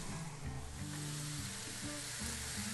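Onions sizzling steadily in a pot of green tomato chili with ground coriander, a broad hiss heard close with a low tonal hum underneath and no speech.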